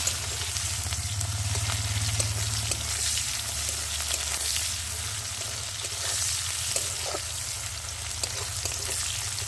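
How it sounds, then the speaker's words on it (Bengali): Cumin seeds and onion frying in hot oil in a wok: a continuous, fairly loud crackling sizzle with occasional stirring scrapes, no voices. "তেলের মধ্যে এবার দেবো জিরে ফোড়ন, আর দেবো পেঁয়াজ,"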